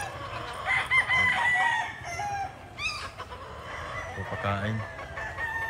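Roundhead gamefowl pullets cluck and chatter in a busy flock while being fed, with a brief crow-like call among them. Someone talks briefly over the birds.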